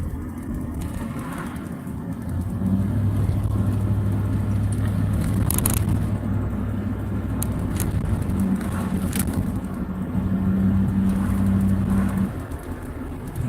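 A car drives straight ahead into Löbau town, a steady close engine and road rumble with a low tonal hum that rises and holds, no talk over it.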